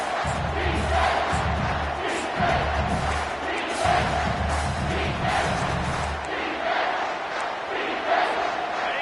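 Football stadium crowd roaring on third down at the Rose Bowl, a loud sustained mass of cheering and yelling that swells and holds for the whole stretch.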